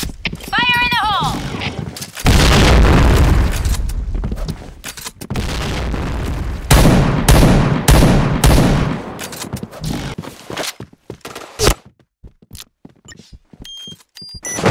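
Explosive bursts and gunfire from the Point Blank shooter game ring out in several loud booms across the middle, with scattered shots and a brief horse-like whinny early on, while voices call out over the chaos.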